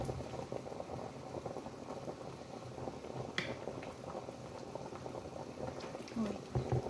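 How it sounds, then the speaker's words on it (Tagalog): Tomato broth simmering in a pot, a continuous bubbling and gurgling boil heard up close throughout, with occasional faint clinks and a soft voice beneath. "kumukulo na rin siya guys"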